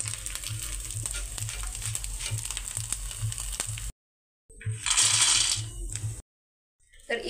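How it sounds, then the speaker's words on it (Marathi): Sago pearls (sabudana) frying in hot oil for a fasting nylon chivda, a dense crackling sizzle with light clinks, cut by two brief silences before a louder burst of frying, no speech. "तर अशा पद्धतीने मी राहिलेला सर्व साबुदाणा इथे तळून घेणार आहे"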